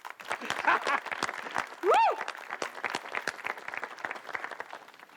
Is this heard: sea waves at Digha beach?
no